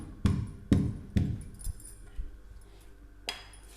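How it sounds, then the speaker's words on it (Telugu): Jaggery crushed into soft black gram dal chutney in a stone mortar, rhythmic pestle strikes landing three times in quick succession, then quieter grinding and a final knock, close and clear with no talking. "బెల్లాన్ని కూడా ఇందులోకి వేసేసుకొని మెత్తగా చేసేసుకుందాం"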